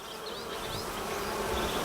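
Africanized honey bees hum steadily at an open hive during an inspection, a dense, continuous buzz that swells slightly louder toward the end, with individual bees whining past close by.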